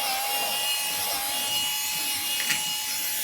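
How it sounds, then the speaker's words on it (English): Drill-driven carpet scrubber brush working cleaner into a car's carpet, a steady, continuous rubbing and scrubbing texture with a constant motor whine underneath, close and moderately loud throughout. "I'm just gonna work in some of that cleaner with this drill attachment"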